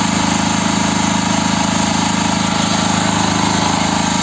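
A petrol generator engine runs steadily throughout, a loud, continuous mid-pitched drone with an even mechanical hum and no pauses, heard alone without talk.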